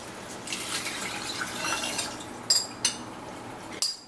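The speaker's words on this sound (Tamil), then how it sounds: "ஸோ 3 cups நான் வாட்டர் விட போகிறேன்." Water trickling and dripping into a pot of chicken and rice for biryani, soft and close, with a few louder splashes near the end.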